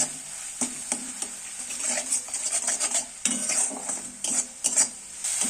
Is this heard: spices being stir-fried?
yes